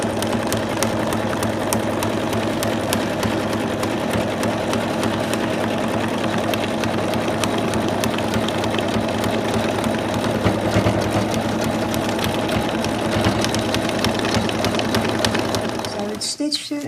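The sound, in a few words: embroidery machine stitching an in-the-hoop Santa doll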